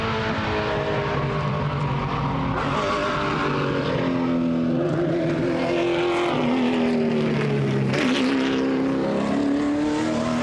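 A racing truck engine roars at the Goodwood circuit, a loud sustained drone whose pitch rises and falls with gear changes as it passes, with no voices.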